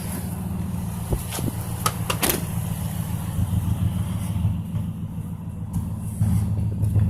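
A 2011 Ford F-150 XLT pickup truck engine idles steadily with a low, rumbling hum throughout, a few clicks and knocks sounding near the start.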